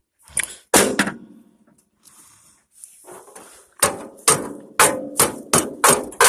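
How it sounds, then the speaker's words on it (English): A rock pounded as a makeshift hammer against metal while fixing a tractor, giving a series of sharp, loud, close strikes, a few early then a rapid regular run of about eight blows near the end. "Like cavemen using rocks to hammer stuff."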